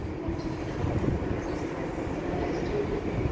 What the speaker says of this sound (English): coming in there is a tram to East Didsbury